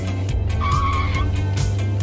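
A car drifts in the video game Drift Boss, with a steady engine drone under a continuous, wavering tire skid and squeal.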